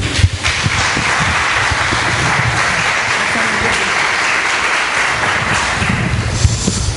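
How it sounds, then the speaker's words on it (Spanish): Applause from an audience at a church lecture in Cuba, a steady sustained clapping that fills the whole stretch, loud and dense, welcoming a speaker to the front. "y lo recibimos con aplausos"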